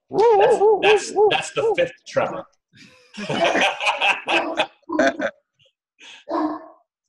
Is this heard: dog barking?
yes